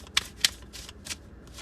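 Mystical wisdom oracle cards are shuffled by hand at close range, giving a few crisp riffling bursts and light papery flicks spaced irregularly, with a quiet room around them and no talking.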